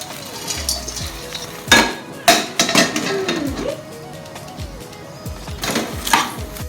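Caramel popcorn is stirred in a pot, producing close, uneven scrapes and clinks of a utensil against metal in a few clustered bursts, with quieter rustling in between.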